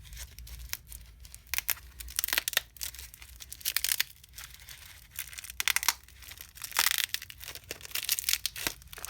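A padded mailer package is cut and torn open: repeated close rasping bursts of tearing and crinkling plastic and paper, irregular and fairly loud, with short pauses between strokes.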